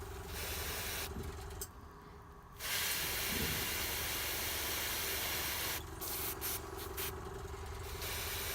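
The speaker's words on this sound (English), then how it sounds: "I'm spraying a candy orange filter over the top of" Bursts of airbrush spraying candy orange paint over red on a miniature figure, a close steady hiss that starts and stops several times with short pauses between passes.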